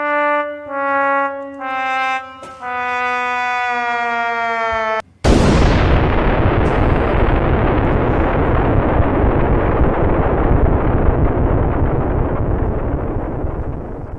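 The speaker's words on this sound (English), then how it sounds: "That was a long explosion." A long, roaring explosion follows a few seconds of wailing, siren-like tones. The loud broadband rumble bursts in suddenly and sustains for about nine seconds, slowly thinning out.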